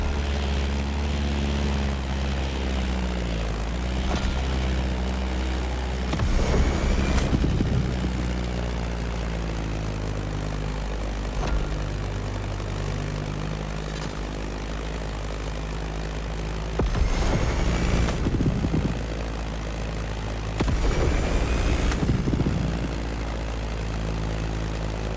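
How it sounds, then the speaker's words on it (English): A Beechcraft Staggerwing biplane's propeller engine drones steadily in flight, a loud continuous hum that swells a little in several brief louder passes. "Beechcraft Stagger Wing is truly a beautiful piece, isn't it? And a great choice for that flight."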